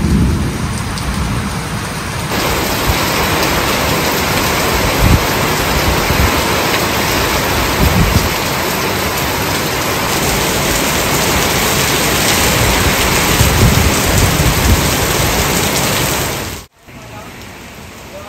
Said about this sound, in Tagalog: Nabuhos talagang malakas na ulan.